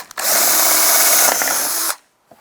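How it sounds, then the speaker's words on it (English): A power drill drills holes for a license plate bracket on a 2010-2016 Cadillac SRX, whining steadily at close range for nearly two seconds, then stops abruptly, leaving near silence with a faint click. "You can pull this down and then you can drill your holes."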